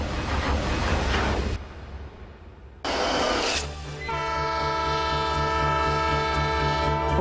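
The Spirit of Oregon, an old steam train running through Oregon's coastal mountains, rumbles loudly and then sounds a long, steady whistle with several harmonic tones over the rolling clatter of the cars, heard close and without speech.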